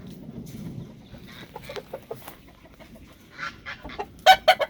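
A West Virginia Blue rooster and chickens cluck softly in short scattered calls, building to a few louder clucks near the end.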